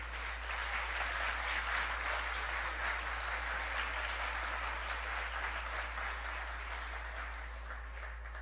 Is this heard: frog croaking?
no